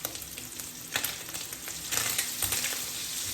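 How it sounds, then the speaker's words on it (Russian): Spices fry in a hot pan with a steady, close crackling sizzle that swells and surges in bursts, along with light stirring sounds. No one speaks. "специи жарятся"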